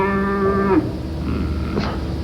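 A cow moos loudly and close in a film scene, one long low bellow that trails off, followed by a shorter rougher lowing sound, with no talk over it.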